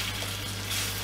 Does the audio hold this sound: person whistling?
no